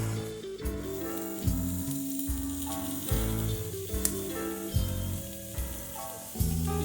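Tomato puree and spices, including fennel and coriander seeds, sizzle and fry in a pan for pulled pork, a steady close crackle with intermittent thumps and scrapes of stirring.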